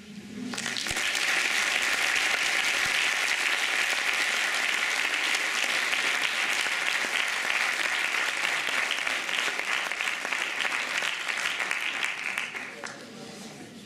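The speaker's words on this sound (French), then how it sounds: "vous avez applaudi Jeff." An audience at the final of an eloquence contest at Neoma BS Reims breaks into loud, sustained applause that holds steady for several seconds before tapering off, with a voice briefly audible at the start.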